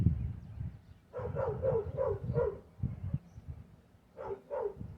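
A dog barks in two bursts of several sharp barks, the first a run of four or five, then a short pair, over a low rumbling background.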